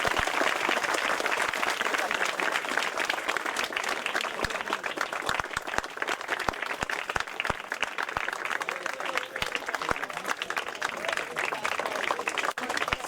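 A crowd applauds continuously at a cup tournament prize distribution ceremony, a dense wash of many hands clapping at steady loudness with occasional crisp nearby claps cutting through.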